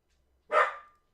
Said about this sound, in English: Drive me crazy sometimes, this dog.